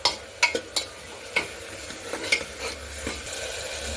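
Bottle gourd with garlic chili spices being stirred in oil: a spoon scrapes and knocks the pan in several sharp, irregular strokes over a faint sizzle, close and alone.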